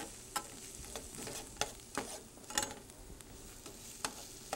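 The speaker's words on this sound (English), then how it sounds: "we're frying onions on the program" Onions fry in a pan with a soft, steady sizzle, broken by several sharp clicks and scrapes from stirring, quiet overall with no talking.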